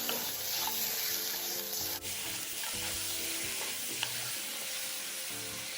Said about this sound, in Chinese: 这时候再将备好的排骨倒入，